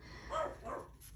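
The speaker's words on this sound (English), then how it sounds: "Sorry, my dog's going nuts." A dog barks excitedly indoors, two short close bursts in quick succession, fairly quiet against a low room hum.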